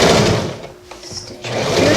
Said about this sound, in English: You can sew it right through elastic.